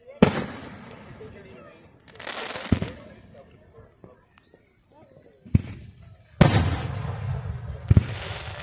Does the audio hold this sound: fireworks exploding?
yes